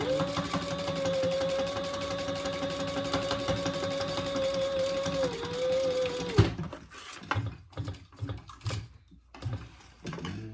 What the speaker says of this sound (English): now we're gonna sew our interior portion at that full seam allowance